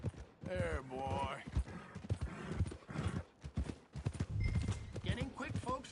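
Horse hooves clip-clop along at a walking pace in the Red Dead Redemption II video game, with a horse's whinny, running beneath near-continuous talk and ambient game sound.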